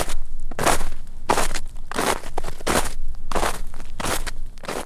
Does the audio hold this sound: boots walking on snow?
yes